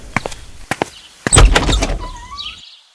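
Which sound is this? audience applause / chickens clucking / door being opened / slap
door being opened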